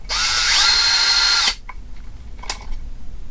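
A power driver whirs steadily as it drives M4 2.5mm screws into a motor mount for a Castle motor on an Arrma Limitless V2 RC car, running about a second and a half before stopping, followed by light handling clicks.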